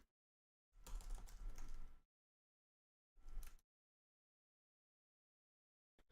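Computer keyboard typing comes in two short bursts of rapid clicky keystrokes, close and fairly clear, separated by silence.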